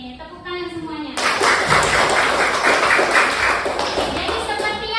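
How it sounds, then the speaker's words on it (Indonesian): A classroom of students claps together after their teacher asks, bursting into dense, close applause with some thumps. A voice is heard briefly just before the clapping starts. "Oke, tepuk tangan semuanya."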